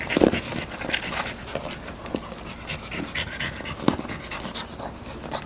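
Norman the dog pants steadily and close, a quick rhythmic huffing that runs the whole time with a few louder snorty breaths mixed in and no talking over it.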